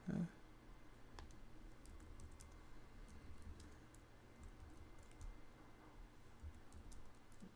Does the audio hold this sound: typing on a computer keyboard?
yes